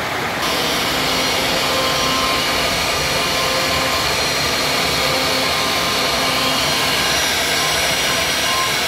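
A 1325x300 servo CNC machine cuts with a loud, continuous high-speed spindle whine and broad roar, steady and close throughout with no talking.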